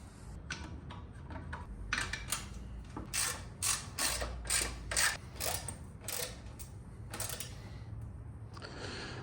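A hand ratchet clicks in repeated short bursts while parts are mounted onto a Honda 400EX four-wheeler, the sharp metallic rattles spaced irregularly over a quiet workshop background.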